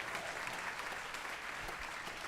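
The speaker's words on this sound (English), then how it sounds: "let's just give her a round of applause for being amazing" An audience at a school winter instrumental concert claps steadily, a dense, even wash of applause from a large crowd that holds throughout, fairly distant.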